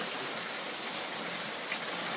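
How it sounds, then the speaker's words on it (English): Heavy rain pouring down during a summer storm: a steady, fairly loud wash of dense hissing rainfall with no pauses and no talk. "I'll just stand back so you can see how much rain is pouring down"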